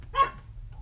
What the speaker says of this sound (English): Oh, there's dogs outside, sorry.